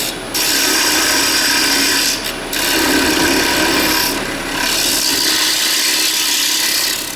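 A 6-inch radius cutter on a 55° dovetail detailer tool shears the tenon off the base of a turned wooden bowl, giving a loud, steady rasping scrape with two brief breaks, close up and without talk.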